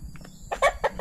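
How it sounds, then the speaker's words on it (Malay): Chickens at a rural valley spot cluck close by in a quick burst of several short clucks, faint soft calls first, then louder ones, no talk. "Ini jenis-jenis ayam yang ada kat sini."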